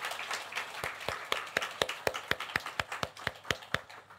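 Congregation applause in a church at the close of an infant baptism and confirmation service: a scattered set of separate, fairly sharp claps in a loose rhythm, moderately near and not very loud, with no talking.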